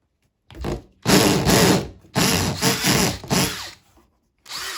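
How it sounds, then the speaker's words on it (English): A power drill bores holes into an Audi A4 Quattro door panel near the glove box hinge, running in several close, loud bursts with short pauses between them and a final burst starting at the end. "2 more holes to drill, sports fans"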